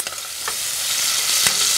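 Onions frying in a pan give a loud, steady sizzle with a few brief scrapes of stirring, close and continuous, with no voices.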